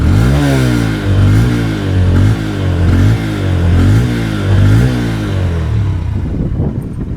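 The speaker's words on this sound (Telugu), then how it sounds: "బండి స్టార్ట్ అయిన తర్వాత వచ్చే ఇంజిన్ సౌండ్ అయితే వినిపిస్తుంది తర్వాత ఎగ్జాస్ట్ సౌండ్ అయితే వినిపిస్తుంది" A Honda CB 125 Hornet motorcycle's engine and exhaust rev up and down loudly and close by, in repeated rising and falling swells that ease off at the end.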